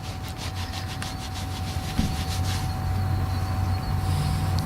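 A dug-up sixpence coin being rubbed clean by hand outdoors, a soft continuous friction sound with a steady background hum, one small tap midway.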